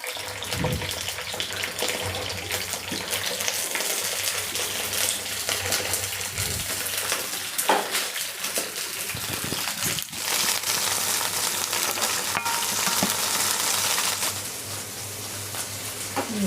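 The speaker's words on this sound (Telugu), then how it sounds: "పచ్చిమిర్చి వేగిపోయినాయండి" Sliced green chillies frying in oil in a pan for tomato roti chutney: a continuous loud, hissing sizzle with a few sharp pops and scrapes, no voices.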